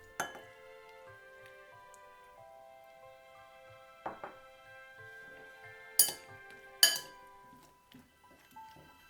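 Bread pieces and milk are stirred together in a bowl: a few sharp, separate clinks of a utensil against the bowl, close and clear, over soft background music.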